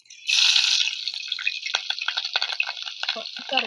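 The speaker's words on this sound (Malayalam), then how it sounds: "ചട്ടി വെളിച്ചെണ്ണ നമ്മുടെ വെളിച്ചെണ്ണ ചൂടായിട്ടുണ്ടേ കുറച്ച് കാന്താരി മുളക്" Kanthari chilies dropped into hot coconut oil in a clay pot, a loud initial hiss followed by crackling, spattering sizzle that keeps popping unevenly.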